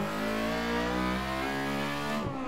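A Honda Civic EG6 on a Nürburgring track day screams at high revs as VTEC engages toward almost 9,000 rpm, a loud sustained engine howl with a clear rising and falling pitch that drops off sharply near the end.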